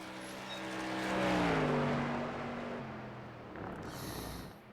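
SK Modified race cars lapping in a racing game, an engine drone rising as a car nears, its pitch sweeping and falling as it passes close, then fading off to a lighter distant hum.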